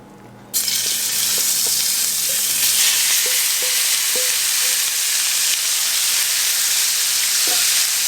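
Loud, steady sizzling of shrimp frying in hot bacon grease, starting abruptly after a moment of quiet and crackling continuously throughout.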